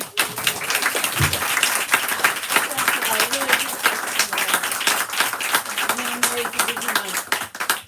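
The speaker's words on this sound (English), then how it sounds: "another round of applause for Anne." An audience at a bookstore reading applauds with steady, sustained clapping that fills the room, with a few voices and cheers mixed in.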